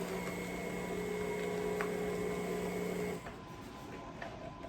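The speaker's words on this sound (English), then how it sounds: "that's the sound of my oven warming up." A kitchen oven warming up gives a steady electric fan hum with a faint tonal whine that drops off abruptly partway through, leaving a quieter background hum.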